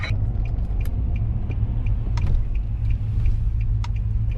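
A 2009 Pontiac G8 on the move, its steady low engine and road rumble continuous and close, with faint higher ticks and clicks scattered over the drone.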